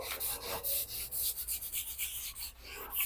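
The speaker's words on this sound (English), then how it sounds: "just with a scour pad, only use the scour pad on the stones" A scour pad scrubbing stove stones, giving a steady close rasping rub in quick repeated strokes with brief pauses, with no talking.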